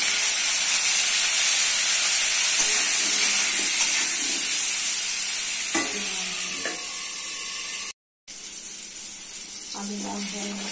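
Potatoes fry in soybean oil with turmeric and salt, giving a steady loud sizzle with some stirring clatter later on and a brief dropout near the end.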